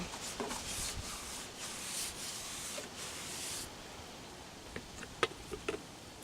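Finnish tar mixed with linseed oil being brushed or rubbed onto wood, a steady close scratchy rubbing that eases off midway, followed by a few sharp ticks and taps.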